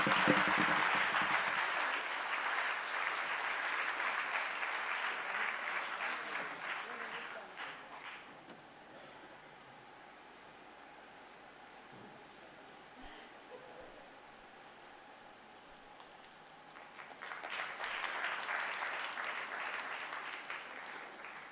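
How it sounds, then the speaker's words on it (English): Audience applause at an event, loud at first, fading to a softer patter in the middle, then swelling again near the end, with voices talking over it. "She deserves it, and the loudest round of applause,"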